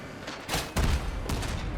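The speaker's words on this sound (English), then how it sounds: "I'm gonna do artillery on this dude" Cannon shots from a Crossout vehicle build, two heavy booming blasts in quick succession, loud and close with a rumbling tail.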